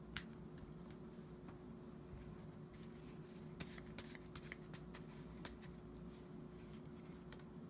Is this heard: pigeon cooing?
no